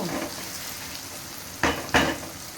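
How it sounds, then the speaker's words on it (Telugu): Onions frying in a pan for a Telangana-style fish curry, a soft steady sizzle close by, broken by two sharp clinks of a utensil against the pan near the end. "ఈ ఉల్లిగడ్డలు ఫ్రై అయ్యే వరకు"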